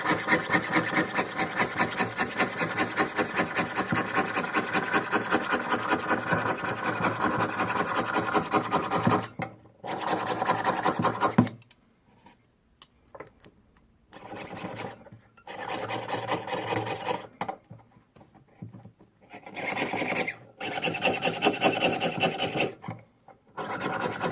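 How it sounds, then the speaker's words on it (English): Metal ID bracelet nameplate being cut out by hand, a close, loud, rapid rasping of repeated sawing strokes, steady at first and then broken into short bursts separated by pauses. "So I like cutting the top part out first because it's where most of the metal is."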